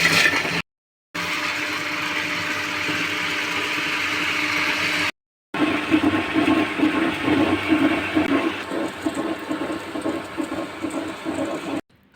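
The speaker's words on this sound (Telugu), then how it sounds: "ఇప్పుడు మీరు మిక్సీలో అయినా వేసుకోవచ్చు లేదా గ్రైండర్లో అయినా వేసుకోవచ్చు" A mixer grinder in a home kitchen churns soaked batter ingredients with a steady, loud motor whir, broken by two short pauses, then runs on with a rougher, pulsing grind until it stops at the end.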